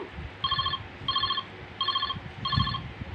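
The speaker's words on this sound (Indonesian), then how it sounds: "Mas Tole telepon" A telephone rings in four evenly spaced electronic trills, each a bright pulsing burst with short gaps between, loud and close over a faint background, with no talk.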